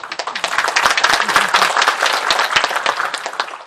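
Residents at a public hearing on an apple distribution corporation clap together, a dense burst of hand claps filling the room at close range, holding steady before tapering off.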